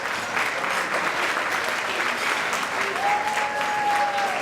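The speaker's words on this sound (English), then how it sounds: "let's give Sherry and Mark a nice big round of applause" Wedding guests give the couple a big round of applause, a thick, continuous crowd clapping at steady volume, with a faint sustained tone emerging near the end.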